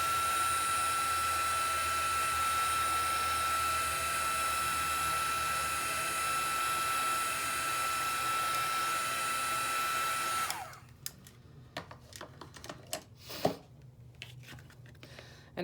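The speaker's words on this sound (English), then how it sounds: "if you don't like the heat tool, close your ears for a second. You can dry this real quick." Heat tool blowing hot air to dry paint on a painted snowman tag, a loud steady whooshing roar with a whine, running about ten seconds before cutting off, followed by light handling clicks and rustles.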